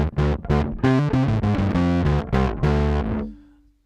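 A distorted bass guitar plays a short, punchy riff of repeated notes, gritty and loud, ending on a held note that fades out.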